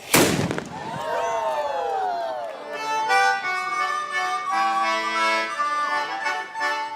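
One loud cannon blast booms at the start of a pirate-themed cannon firing demonstration, then ringing, music-like tones follow as the echo fades.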